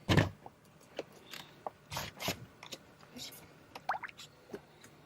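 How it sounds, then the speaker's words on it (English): Quiet wet splashes and drips as nightcrawler worms are pulled by hand out of a container of ice water, scattered irregular sloshes and small clicks at close range with short pauses between them. "I'm grabbing these crawlers out of the ice water."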